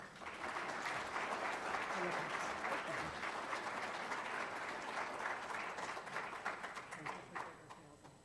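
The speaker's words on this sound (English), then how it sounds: "And again, a round of applause for Chuck Cantrell." A crowd claps steadily for several seconds, dense and sustained, fading slightly toward the end; no voices stand out.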